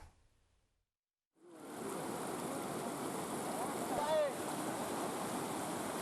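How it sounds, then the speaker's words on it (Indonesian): Rushing river current in a flood, with a bamboo raft crossing; after a quiet start, a steady loud wash of flowing water fills the rest, close and continuous, with a brief higher sweep midway. "Warga terpaksa menerjang derasnya aliran sungai dengan rakit untuk bisa beraktivitas."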